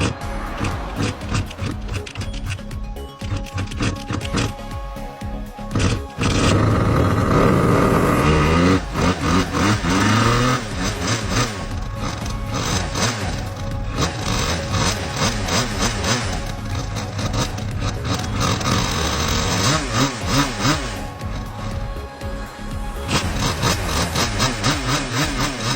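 A Suzuki RG125 Gamma two-stroke motorcycle engine is kicked over and fires, then settles into a raspy, buzzing idle that runs loud and steady, revving up briefly partway through before dropping back to idle.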